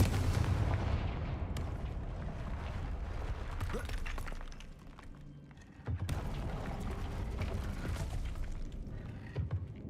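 Fiery Confringo spell blasts in the Hogwarts Legacy video game, a dense run of loud crackling explosive bursts with a brief dip mid-clip before the booming resumes, with no talking.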